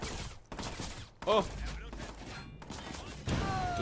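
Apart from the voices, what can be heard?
gunshots in the video game Watch Dogs 2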